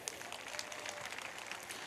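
An audience at a business success event applauds a mentor, a steady, fairly faint patter of many hands clapping from a distance, with no talk over it.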